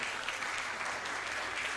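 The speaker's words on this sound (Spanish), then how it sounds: "colectivo, qué aplauso," An audience applauding at a Nerd Nite talk evening, a dense, steady wash of clapping from a crowd, moderately loud and brief.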